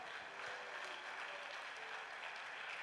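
Church congregation applauding during a worship service, a dense, steady wash of clapping from many hands filling the hall for a few seconds, with no voices standing out.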